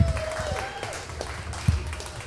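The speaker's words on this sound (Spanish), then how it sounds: "Un aplauso para Meni Chacón" Audience applause at a live comedy improv show in Ciudad Juárez, a steady wash of clapping from a crowd, moderately loud, with some background voices and music mixed in.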